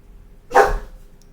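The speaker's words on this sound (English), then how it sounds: "My dog." A single sharp dog bark rings out close by, short and loud, then fades against a quiet room.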